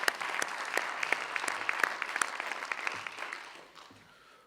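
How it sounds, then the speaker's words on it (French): Applause at a municipal council inauguration meeting, a scattered crowd clapping with distinct individual claps that gradually thin out and fade. "On peut vous applaudir."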